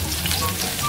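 Garlic sizzles in hot oil in a pan for bawang-fried bopis made with pork lungs, a steady close crackle with no talk.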